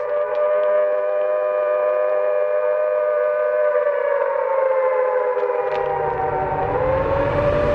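Air raid sirens wail loud and steady, sustained layered tones that gently sag and bend in pitch, with a low rumble rising toward the end, no voice.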